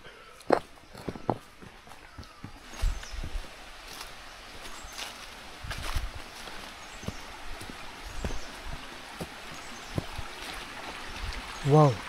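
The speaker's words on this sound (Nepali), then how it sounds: "वाउ, पानी रहेछ।" A stream flows beside a hiking trail near Panch Ghare, Ambotia in Darjeeling, its soft steady rush running under frequent close footsteps on the path and a brief voice at the end.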